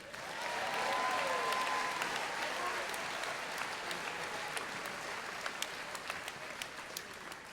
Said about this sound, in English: please help me in giving these stellar students another round of applause